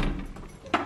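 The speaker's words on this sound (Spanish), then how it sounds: "Vamos a cerrar la puerta." A house door swings shut at home, with a brief low rumble and a sharp latch click near the end, close and moderately loud over room noise.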